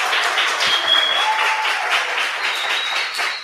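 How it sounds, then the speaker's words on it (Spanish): A poetry study group claps for a member: a short, even burst of applause from a small audience, close and steady throughout, with a faint voice or two beneath it. "Yo quería que todos más fuerte le demos un aplauso muy grande a Flora."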